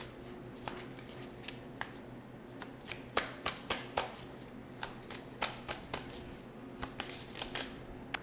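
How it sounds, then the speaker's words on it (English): Oracle cards shuffled by hand in a quiet room, a steady run of soft riffling snaps and slaps repeating irregularly over about eight seconds, close and fairly faint. "I'm going to pull from the Sacred Symbols Oracle next."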